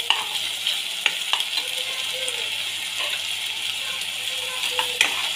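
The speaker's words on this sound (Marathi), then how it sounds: "ते छान तेलावर छान परतून घ्या." Mutton sautéing in hot oil crackles with a soft, steady sizzle, punctuated by sharp clicks and scrapes of a spoon against the pan, heard close with no one talking.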